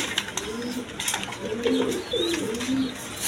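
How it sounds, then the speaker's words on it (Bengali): A pair of Pakistani high-flying giribaz pigeons with two young coos in soft, repeated rolling calls over a hissy room background, with a faint chirp partway through. "এখানে এক পেয়ার আপনার গিরিজাল কবুতর আছে"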